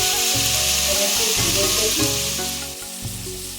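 Loud, dense sizzling of potatoes frying in oil, with a low rhythmic rumble and occasional scraping as a spatula stirs and turns them.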